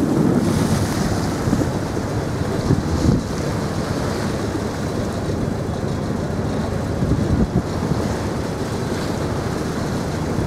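Choppy sea in a channel heard from a boat, a constant loud rush of wind buffeting the microphone over sloshing waves, with occasional heavier splashes and no voices.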